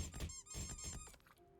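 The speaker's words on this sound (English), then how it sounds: "Why are you squeaking?" A series of high, squeaky chirps repeats rapidly, then trails off into a few quieter, thinner squeaks.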